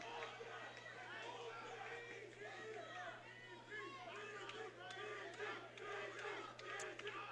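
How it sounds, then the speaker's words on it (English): A home crowd at a kickboxing match roars and shouts continuously, a dense wall of voices heard at a distance under a steady low hum, with no single voice standing out. "Vocal home crowd support for BG, El Guapo Guerrero."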